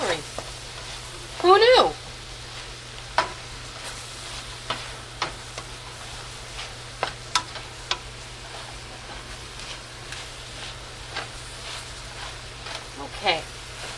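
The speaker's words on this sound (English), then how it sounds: "Give it a good stir." Raisins and celery being stirred through a sizzling pan for sweet and sour cabbage, with a steady fry hiss, scattered scraping clicks from the spoon, and a person speaking briefly over it.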